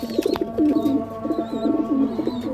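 Racing pigeons coo in repeated soft, throaty phrases close by, with faint chirps over a low background hum.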